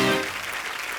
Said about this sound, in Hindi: जोरदार तालियां हो जाए रवीना के लिए।